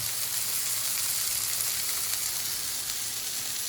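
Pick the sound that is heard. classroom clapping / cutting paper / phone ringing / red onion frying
red onion frying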